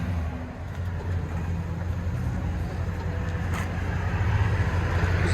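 A 2010 Toyota Tundra 5.7L V8 with a Flowmaster Super 50 exhaust idles steadily, a deep continuous low rumble heard close and fairly loud with no talking.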